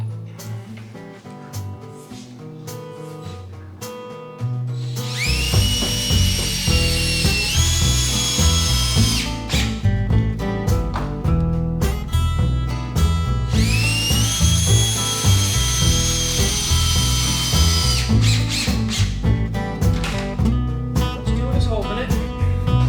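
A power drill bores through the wheel plate of a wooden chicken tractor, its high whining motor starting after a quiet lead-in, rising and falling in pitch across two long bursts, loud and close.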